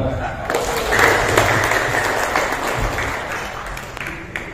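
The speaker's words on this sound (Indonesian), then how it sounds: "Tepuk tangan." Audience applause at a regional youth organization congress in Tegal, Central Java, a dense steady wash of clapping lasting throughout with a murmur of voices mixed in underneath.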